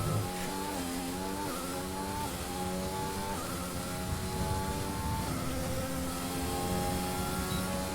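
An F1 2020 racing car's engine screams steadily through the whole stretch, with a high, continuous tone that rises and dips slightly with gear changes and no talking over it.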